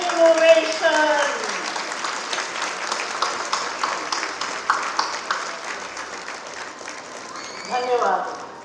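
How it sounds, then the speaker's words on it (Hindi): Audience at a Regency Public School annual function giving a standing ovation, broad sustained clapping filling the room from start to finish, swelling near the end, with some voices mixed in. "चलिए खड़े होके हम लोग तालियां बजाएं"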